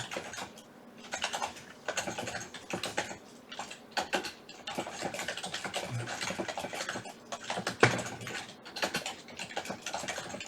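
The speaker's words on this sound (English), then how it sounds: "I'm typing. Sorry, it takes me a minute." Rapid irregular clicking of a computer keyboard being typed on, close and moderately quiet, in bursts with brief pauses, with no speech over it.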